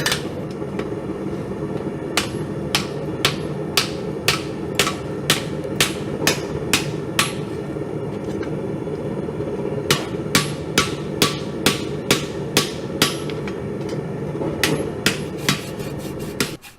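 Mild steel is hammer forged and folded over to form the eye of an axe, with sharp ringing blows that come in steady rhythmic bursts over a constant background roar, pausing between rounds.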